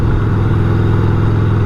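A 1988 Harley-Davidson Sportster XLH 1200 motorcycle engine rumbles loud and close with a steady, throbbing low-pitched idle.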